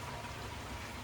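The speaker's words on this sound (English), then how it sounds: "you see where I'm on the porch enjoying the rain" Steady rain falling in the evening, heard from a porch, a soft continuous broadband hiss with no distinct drops standing out.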